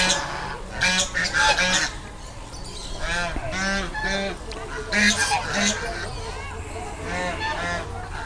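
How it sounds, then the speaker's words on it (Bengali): Geese honk loudly and repeatedly nearby in an ashram garden, overlapping calls rising and falling in noisy bursts throughout. "রাজহাঁস"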